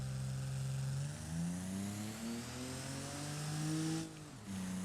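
An Ibishu Claria wagon in the BeamNG driving game revs while driving, its engine note rising steadily through a gear, dropping sharply at a shift near the end, then pulling again; loud, close and without talk.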